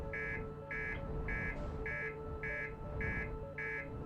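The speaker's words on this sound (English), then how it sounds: "this does have the annoying buzzer" A ship's warning buzzer in the space exploration game Outer Wilds sounds in a steady repeating pattern, seven short loud electronic bursts at even intervals over a low hum, with no one talking.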